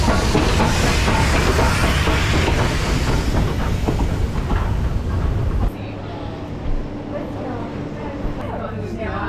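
Steam train of a wine tour railway rumbling and clattering past at close range, loud and steady, then cutting to a quieter background with people talking.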